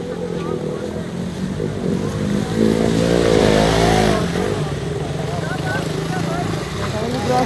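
Three motorbikes rev and splash together through a water crossing, engine drone rising loudly mid-way then settling under continuous churning noise, with voices talking over it.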